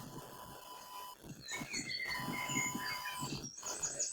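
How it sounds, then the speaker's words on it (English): Birds chirp along a Camino de Santiago trail, bright, brief calls scattered over steady outdoor background noise at moderate distance. "Hear those birds? We just love hearing them."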